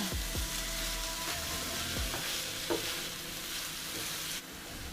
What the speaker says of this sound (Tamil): தேங்காய் சேர்த்து நல்லா கலந்து விட்டுருங்க. இதுவும் நல்லா ட்ரை ஆகிற வரைக்கும் நல்லா கலரி விடுங்க